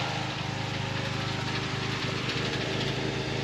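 A Triumph TR3 engine idles steadily on linked twin carburetors, a low, even rumble running close and continuous with no voices over it.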